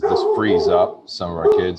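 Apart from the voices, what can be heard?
dog barking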